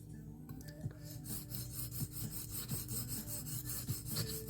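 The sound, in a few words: knife blade sharpened on a Norton India stone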